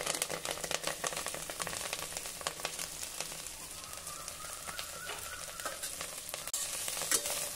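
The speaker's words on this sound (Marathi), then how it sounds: "आता ही अळूची पानं जरा 1 मिनिटासाठी आपण परतून घेऊ" Chopped taro leaves and stems sauté in a small amount of oil with green chillies, giving a steady crackling sizzle with occasional stirring scrapes, close up and without talk.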